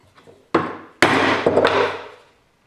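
A straight wooden fence being clamped down onto a board for cutting a dado, heard as a few sharp woody knocks and a scraping rub at close range, with no talking.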